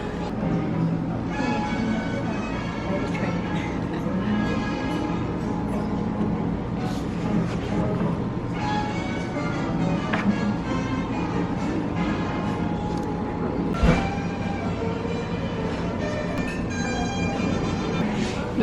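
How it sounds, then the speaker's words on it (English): A train rolls past on nearby tracks outside a restaurant at a Walton inn, a continuous rumbling, clattering wash with brief squeals, heard at moderate distance for the whole stretch. "There goes the train."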